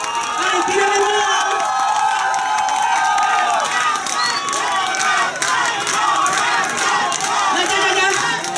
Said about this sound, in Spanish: aplauso fuerte para la chiquitita